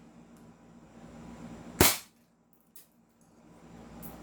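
Upgraded M92 Beretta airsoft pistol, a single sharp loud crack close by in a quiet room, followed by a fainter small clack and a later soft tick.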